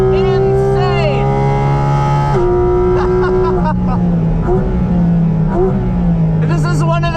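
A Porsche Cayman GT4 RS engine howls while driving, with loud rising and falling revs and strong harmonic tones, shifting pitch several times and sounding close throughout.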